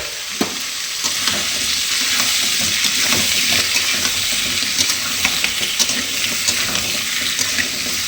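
Food frying slowly in a pan at home, a steady, close broadband sizzle running throughout with light stirring clicks and scrapes scattered over it.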